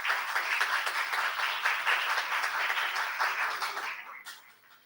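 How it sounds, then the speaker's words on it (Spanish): Audience applause at a university lecture on intellectual property, a dense steady clapping from a crowd for about four seconds before fading out. "Un fuerte aplauso para ella"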